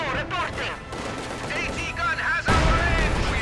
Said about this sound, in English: Field guns shooting away.